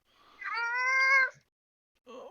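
A voice imitates a cat with one drawn-out, rising meow followed by a shorter second meow after a brief silence.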